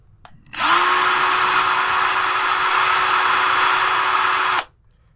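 A Morris 16.8V 10mm brushed cordless drill runs at speed 2 with a steady high whine that holds for about four seconds, then stops abruptly. The sound is close and clear, with quiet surroundings before and after.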